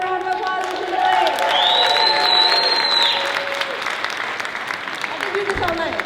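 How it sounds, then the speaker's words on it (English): A convention panel crowd bursts into applause and cheering for Ginger Lynn, with sustained clapping, a few whoops and whistles, and voices mixed in that fade toward the end. "I want a round of applause for Ginger Lynn"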